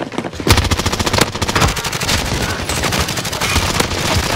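Rapid automatic gunfire bursts in Warzone Rebirth Island, loud and dense rattling volleys continuing throughout without speech.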